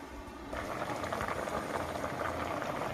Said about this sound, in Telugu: కిచిడి కాబట్టి ఇది ఉడకాలండి.